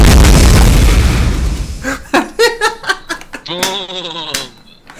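A petrol station blowing up in DayZ: a loud, deep, rumbling explosion that fades away, followed by excited voices and laughter.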